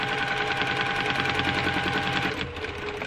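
A domestic sewing machine runs steadily at close range while free motion quilting circles, its rapid needle stitching forming a continuous mechanical whir that eases off slightly near the end.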